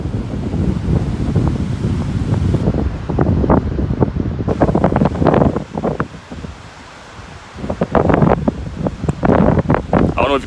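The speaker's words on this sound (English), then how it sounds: "it's very windy out here" Loud, gusty wind buffets the microphone in a steady roar at the Long Beach LIRR train station, with surging bursts that briefly ease before returning.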